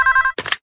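A telephone bell rings in a quick warbling burst, close and clear, followed by a brief rustle of noise.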